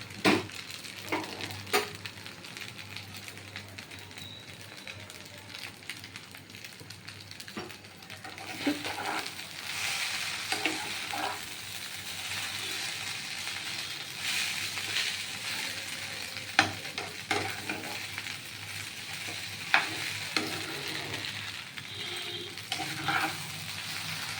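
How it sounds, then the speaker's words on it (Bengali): Chow mein noodles sizzling in a hot pan while being stirred, a continuous soft fry with intermittent scraping clicks and taps of the utensil, close and alone with no talk. "চাউমিনটা যত ভাজা ভাজা হবে তত খেতে টেস্ট লাগবে"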